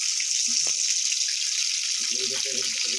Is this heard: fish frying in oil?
yes